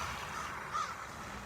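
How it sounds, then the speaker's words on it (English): A few crows caw overhead, two clear calls rising out of a steady outdoor hush on a snowy day beneath a budding tree. "And now some crows are flying overhead."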